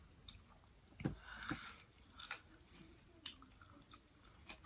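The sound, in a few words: crunching while eating spicy chicken joints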